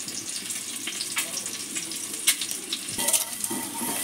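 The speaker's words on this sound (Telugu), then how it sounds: "బాయిల్ చేసుకున్న ఎగ్లను కొంచెం ఉప్పు కారం వేసుకొని ఫ్రై చేసుకోవాలి." Boiled eggs seasoned with salt and chili fry in a pan, a soft steady sizzle with occasional scrapes and clinks of a utensil, fairly quiet and close.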